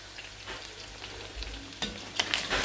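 Goat meat sizzles and spits steadily in a pot, with occasional stirring scrapes and sharper crackles near the end.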